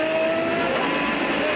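Heard on board GT car number 9 at Silverstone during the 2005 FIA GT Championship Tourist Trophy, the engine holds a loud, steady, high-pitched whine with no break or pause.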